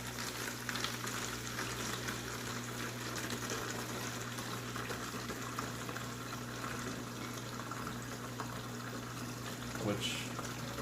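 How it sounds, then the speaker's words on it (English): Harvested phytoplankton culture being poured through a funnel, a continuous steady wash of gushing liquid lasting the whole stretch, moderately close, with a low electrical hum underneath. "just pouring out the phytoplankton you harvested"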